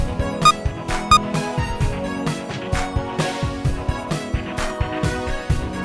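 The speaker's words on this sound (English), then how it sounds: "if Jerry and the Knight already have been played, the music sounds like that." Busier music from the game Divided Dungeon, with combined character themes, punchy rhythmic hits and a layered melody, louder and denser, driving along steadily with no voices.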